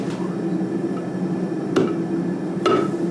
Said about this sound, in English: I'm gonna try my first ring forge weld